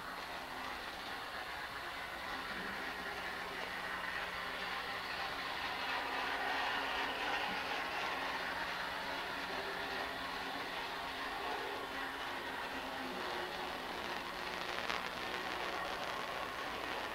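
LGB model trains and a handcar running around a garden-scale track with automatic yard controls, a steady faint rolling hum and light rail clatter continuing evenly throughout, with no voices.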